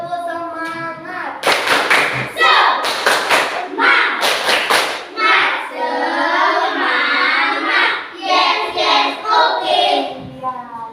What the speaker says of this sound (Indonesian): Iya, beri tepuk semangat.